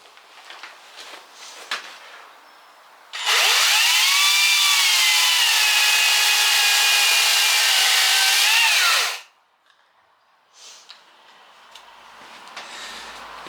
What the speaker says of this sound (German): So, neue Kette und Schiene auf der kleinen Akkusäge, 18 Volt.